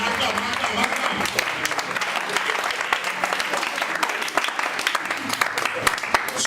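A church congregation applauds continuously, a dense, loud wash of clapping with voices mixed into the crowd noise throughout.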